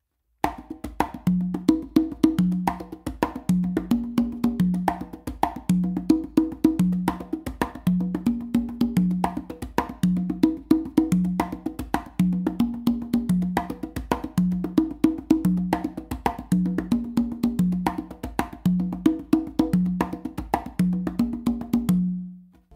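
Caballo rhythm played across conga and tumba, a steady galloping pattern of open tones and slaps repeating evenly for over twenty seconds, close and loud with no talking.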